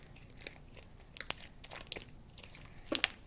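Slime is crunched by hand, giving a quick run of close, crisp crackling pops and squishes, several bursts over a few seconds with no talking.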